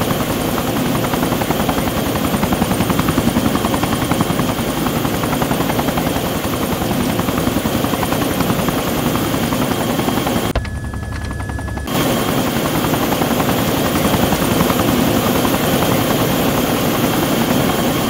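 Helicopter in the video game ArmA 2: a loud, steady rotor chop and engine drone that runs throughout, briefly cutting out for about a second before resuming.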